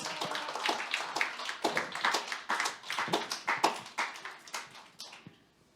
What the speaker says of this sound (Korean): 김수경 선생님 박수로 맞아주세요.